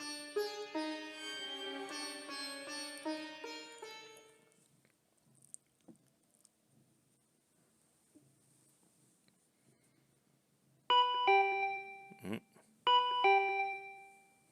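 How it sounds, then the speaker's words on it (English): A chiming doorbell in the Danganronpa V3 video game rings twice in bright, loud bursts after a stretch of quiet, following an earlier passage of melodic game music. "The doorbell."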